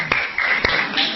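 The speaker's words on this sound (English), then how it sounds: "let's give applause to Professor Hira" Scattered hands clap for Professor Hira at the close of an HIV/AIDS prevention education session, a thin, brief patter of applause in a lecture hall.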